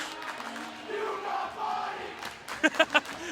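Hockey crowd in an arena reacts to a hit during a girls' varsity game, a sustained roar of shouting voices followed by three sharp rhythmic chant bursts.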